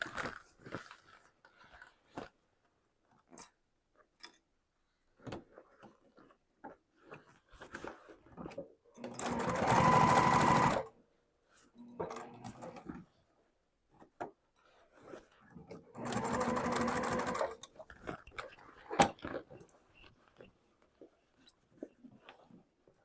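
A domestic sewing machine stitches a backpack seam in two bursts of a few seconds each, close and steady, separated by quieter handling and rustling of fabric.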